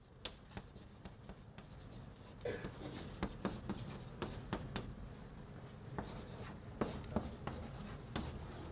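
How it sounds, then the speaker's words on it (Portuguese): Chalk writes on a board during a university calculus lecture, with scattered sharp taps and scratchy strokes coming in irregular bursts over a steady low room hum, close and moderately loud, with no talking. "eu vou escrever direto aqui"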